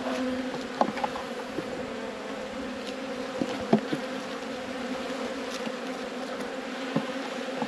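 Honey bees buzzing over hive frames during a robbing event, a steady, fairly quiet droning hum from many bees at close range, with a few faint clicks and taps and no talking.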